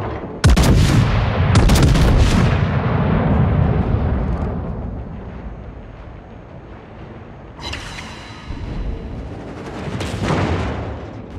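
Ohio battleship guns fire in World of Warships, a sharp loud opening salvo rolling into a long booming rumble, then two more distant cracking shots later, with no talk.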